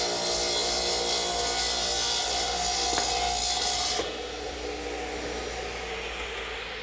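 A table saw rips through wood for a cricket table leg as the stock is guided by a jig. The broadband cutting whine holds steady for about four seconds, then drops to a quieter idle hum once the blade clears the cut.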